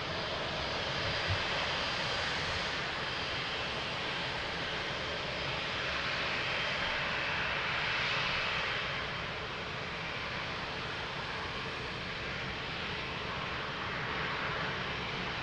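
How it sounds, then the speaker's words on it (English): An airplane landing at Lisbon airport gives a steady, sustained engine roar that swells slightly and holds at a moderate distance throughout, with no talking. "Beautiful landing, really amazing."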